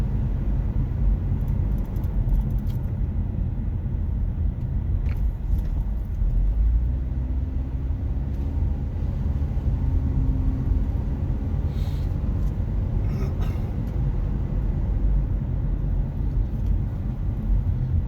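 A car climbing a hill produces a steady, continuous low engine and road rumble with no breaks. It stays moderately loud and close throughout, heard from inside the vehicle, with no talking.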